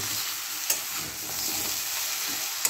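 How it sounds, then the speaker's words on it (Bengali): Vegetables frying in a pan for Odia dalma give off a steady, dense sizzle that lasts throughout. A couple of faint utensil taps sound close against the hiss, and nobody talks. "অল্প করে ভালো করে সবজিগুলো ভেজে নেব।"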